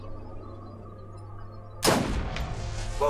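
A single sharp gunshot fires in the video game Borderlands, a loud close burst that cuts in abruptly after quiet game ambience and rings out with a short tail.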